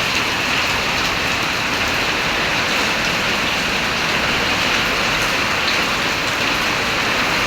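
Heavy rain pouring behind a house, a loud, steady, dense roar of falling water with no break throughout.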